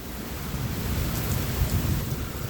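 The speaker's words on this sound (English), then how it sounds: "Big lightning storm." Thunderstorm with lightning and heavy rain, heard as a steady dense hiss of rain with low rumbling thunder rolling underneath throughout, fairly close and continuous with no talking.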